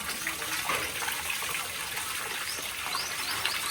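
Tap water gushes steadily from a faucet, a continuous broadband hiss and splash with no break, fairly close and alone.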